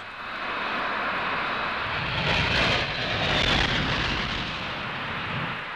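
Hawker Siddeley military jets of the Royal Air Force, including the Buccaneer, roar overhead in a loud, continuous engine rumble that swells and holds steady throughout.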